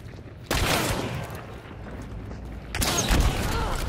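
Gunfire in Hunt: Showdown, two loud nearby bursts of shots with rumbling echo trailing off between them.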